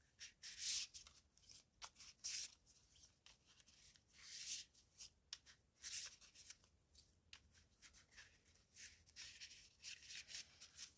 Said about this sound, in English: Giving them a bit of a shuffle.